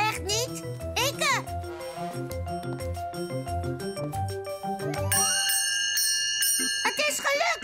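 A cartoon bell rings in bright, repeated tinkling dings near the end, following a bouncy musical passage, while a voice speaks over parts of it.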